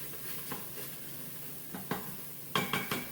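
Chopped onion goes into a hot Instant Pot with a soft hiss and scattered clicks, ending in a quick run of utensil clatter against the pot.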